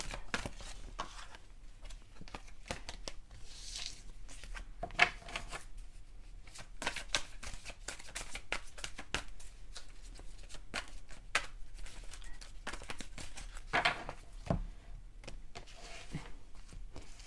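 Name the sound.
shuffling tarot cards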